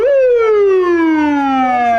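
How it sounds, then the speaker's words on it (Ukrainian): A police car siren sounds loud and close in a single long wail, rising sharply at the start and then gliding slowly downward in pitch. "Вже знає, коли яку сирену вмикають поліцейські."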